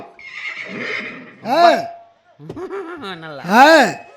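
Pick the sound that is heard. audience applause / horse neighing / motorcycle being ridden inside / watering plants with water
horse neighing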